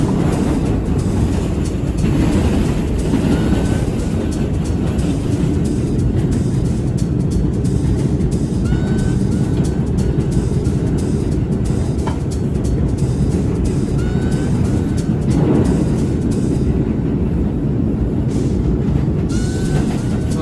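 A New York subway train runs with a loud steady rumble and roar from inside the car, faint squeals and clicks rising now and then, continuous throughout.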